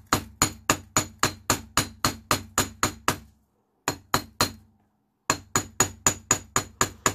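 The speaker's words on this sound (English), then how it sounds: "And grab my hammer and hammer" Sharp metallic hammer strikes on a metal heart-bead shawl pin ring out in a steady, rapid rhythm, pausing briefly twice before resuming; close and fairly loud with a bright clinking edge.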